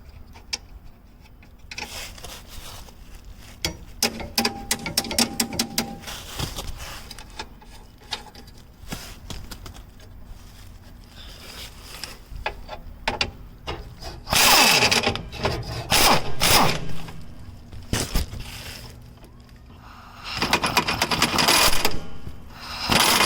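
A part being tapped out of a Nissan 240SX after its nut is removed: scattered metallic taps and knocks, then bursts of louder rattling and clunking work noise, with no talking.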